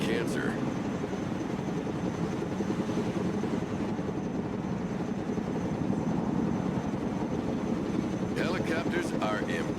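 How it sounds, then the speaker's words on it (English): Helicopter engine and rotor noise in the Broken Arrow war video game forms a loud continuous droning rumble that runs steadily throughout, with a few brief clicks near the end. "Helicopters are impressive machines. Boy, are they noisy."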